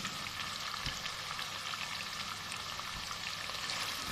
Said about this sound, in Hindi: और ये चिकन मसालों में अच्छी तरह फ्राई हो गया है।